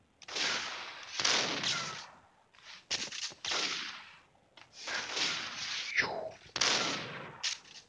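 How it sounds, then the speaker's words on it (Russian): Repeated sharp gunshots from the Max Payne Mobile video game, about seven loud cracks in irregular bursts with short reverberant tails and brief quiet gaps between them. "Прострелил два помойных ящика, а в противника не попал."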